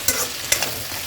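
A dry chicken fry being stirred in a hot pan, with a scraping spatula and a couple of sharp scrapes over a steady soft sizzle, close and alone.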